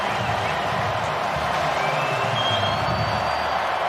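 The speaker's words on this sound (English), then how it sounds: "really the first time we've heard this crowd get into it the entire day" A stadium crowd at a Syracuse versus Clemson college football game cheers in a dense, sustained roar that stays loud and even throughout, with a faint whistle rising partway through.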